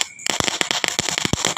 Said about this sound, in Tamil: பயங்கரம் வெடிச்சுக்கிட்டே இருக்குது. போட் எப்படி வெடிக்குது.